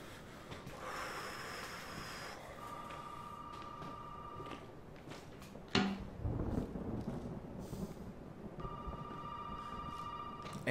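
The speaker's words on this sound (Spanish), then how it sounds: "El teléfono." Telephone rings in Resident Evil 7 as a repeating electronic trill in two bursts, one early and one near the end, over a dark rumbling ambience with a sudden loud thud in the middle.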